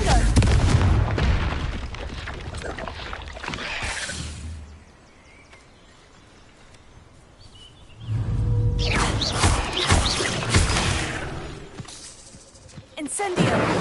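Blasting Confringo spell explosions in Hogwarts Legacy, heavy booming bursts with crackling debris, loud at the start and again after a quieter lull, spread across the clip with some overlapping voices.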